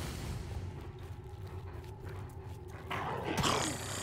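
Dogs growl in the video game Divinity: Original Sin, a low, steady rumbling under a dense game soundscape, with a louder, harsher snarl surging near the end.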